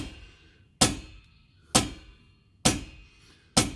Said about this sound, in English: This is a 20-ounce sledgehammer. You can do a lot of damage with one of these. But just very gently keep tapping it.